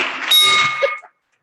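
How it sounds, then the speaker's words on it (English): A bell rung once at a Rotary Club meeting in Oakland gives a single bright clang that rings for about a second before cutting off into silence. "So love to ring the bell for her."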